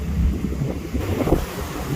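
Sea waves wash onto a beach in southern France, a low rushing roar heavily buffeted by wind hitting the microphone, steady and close with no voices.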